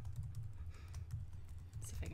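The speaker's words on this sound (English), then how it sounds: "I'm typing on Facebook." Typing on a computer keyboard, with soft continuous key clicks over a steady low hum, close and moderately quiet throughout.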